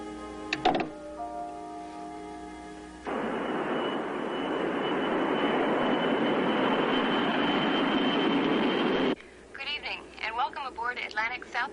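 A Lockheed L-1011 airliner cabin fills with a steady broadband engine roar for about six seconds, after a few phone tones and before people start talking.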